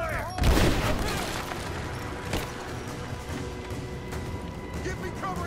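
Gunfire in the video game Rise of the Tomb Raider, a dense burst of shots opening near the start and dying into a continuous rattle of scattered firing and game ambience for the rest of the clip.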